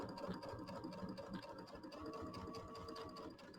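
A sewing machine stitching slowly over soft pins in a quilt seam, a quiet, even mechanical whirring with a steady rapid tapping rhythm throughout, faint and close with no talking.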